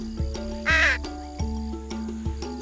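A bird gives a single harsh, raspy call once among repeated rhythmic clanks and tonal knocks nearby.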